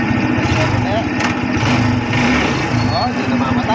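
A car engine running during a test drive after a clutch-release stalling fix, a steady close rumble carrying on throughout while people talk over it.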